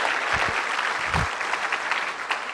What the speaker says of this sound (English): Can we have a loud round of applause for somebody who served the nation?